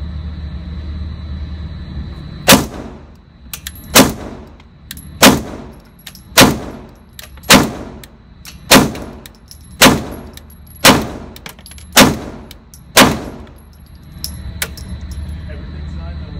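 A CZ P-07 pistol fires at a shooting range, about ten sharp, loud shots spaced roughly a second apart, each with a ringing tail, over a quiet background.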